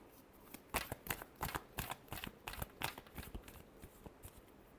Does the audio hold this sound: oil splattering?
no